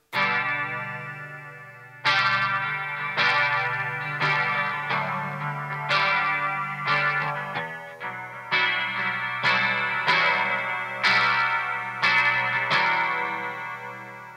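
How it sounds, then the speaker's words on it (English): A clean electric guitar with a jazz tone plays a slow sequence of plucked chords and notes, each ringing out and trailing off with soft delay repeats. "Just a really nice clean with a little bit of delay."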